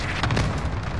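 Cluster strike explosions in Call of Duty: Modern Warfare, a continuous heavy, low rumbling boom with overlapping blasts and crackling debris, loud and dense throughout.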